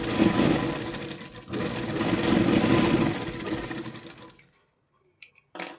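A sewing machine double-stitches the shoulder seam of a small baby frock, running in a continuous mechanical whir with a brief pause, then winding down into silence broken by a few faint clicks.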